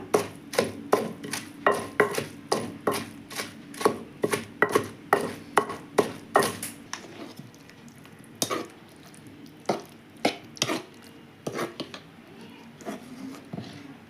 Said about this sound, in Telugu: ఇవి కొంచెం గట్టిగా ఉన్న టమాటాలు మాత్రం వేసి దంచుతాను